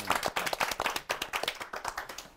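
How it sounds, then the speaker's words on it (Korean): Audience at a Korean book forum claps for a visiting author, a close, brisk burst of hand claps with a fairly even rhythm from a modest group, without speech over it. "큰 박수 부탁드리겠습니다"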